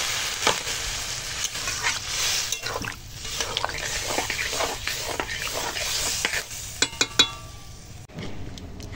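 Water poured into a pan of sizzling curry for a potol chingri dish, a steady loud frying hiss with bubbling and a few sharp spatters near the end, close up and without speech.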